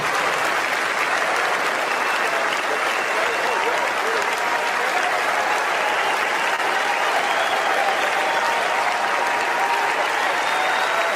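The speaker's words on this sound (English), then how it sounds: "Watch how the crowd gets emotional." A crowd applauds and cheers steadily and loudly throughout, a dense sustained ovation for the parents of Hersh Goldberg-Polin after their speech, with no break in the clapping.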